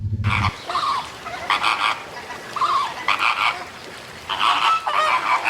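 A flamingo gives loud, nasal, goose-like honking calls in several short bursts separated by brief gaps, close and clear with no talking.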